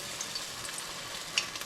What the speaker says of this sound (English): Oh, I love the sizzling.